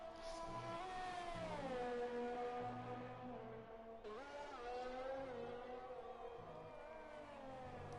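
Formula 1 race car engines in an F1 video game at Hungary, a high, steady whine of several revving engines that rise and fall in pitch over shifting gears, loud and continuous with a brief drop near the middle.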